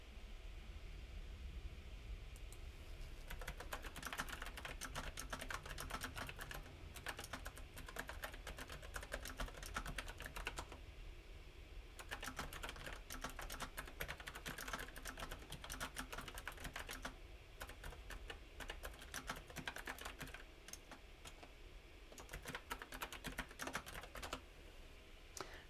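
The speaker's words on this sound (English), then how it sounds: "So sorry about all the typing, guys." Steady typing on a computer keyboard, dense rapid key clicks in bursts with brief pauses, close and fairly quiet over a low background hum.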